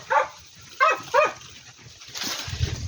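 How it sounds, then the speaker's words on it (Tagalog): A new family dog in a Bicol countryside home barks three times in quick succession, fairly close and loud, followed by rustling and a low rumble. "Ayan po yung bagong aso namin."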